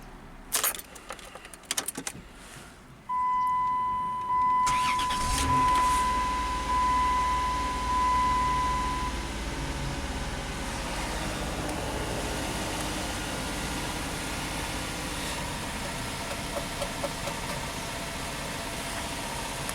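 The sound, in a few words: Dodge Caravan being driven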